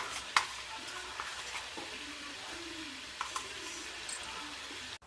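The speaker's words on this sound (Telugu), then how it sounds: "రొయ్యలు ఎర్రగా వేసి అల్లం వెల్లుల్లి పేస్ట్ వేసుకోవాలి" Raw prawns with ginger garlic paste sizzle quietly in a pan, with soft scraping stirs and occasional clinks of a utensil against the metal, fairly faint and close.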